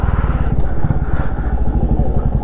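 A Royal Enfield motorcycle rides along the road up Nandi Hills, its engine thumping in a steady, loud, close rhythm with rushing wind noise over it and no talking.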